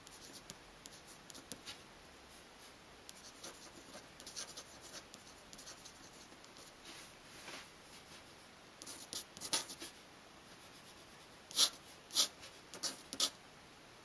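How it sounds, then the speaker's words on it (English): A pen nib scratches across heavy paper with Indian ink, faint and close, in short strokes that grow into sharper, louder scrapes toward the end, with no voices. "the scratch of the nib, and the sense of making an artifact"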